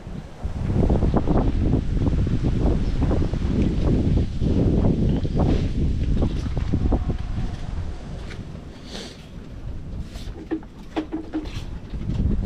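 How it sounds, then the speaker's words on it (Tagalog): Strong wind roars and buffets the microphone on a coast where fishermen work as a storm approaches. Loud gusting rumble, with faint splashes and light clatter breaking through later. "Oh, lakas ang hangin na yan."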